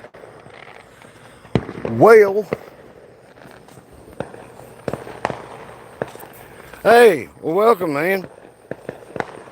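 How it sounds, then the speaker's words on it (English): Fireworks go off outdoors where people pull up and park in Kentucky: several sharp, fairly close bangs and pops scattered through the stretch, with people talking loudly in between. "usually there's some people pull up right here and they set fireworks off."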